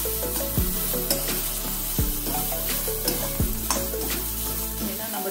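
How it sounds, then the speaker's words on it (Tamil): Chopped snake gourd sautés in a pan for a chutney: a loud, close sizzle with repeated scraping stir strokes coming every second or so. "சும்மா பச்சை வாசனை போய் ஒரு 2 மினிட்ஸ் வதக்கினா போதும்"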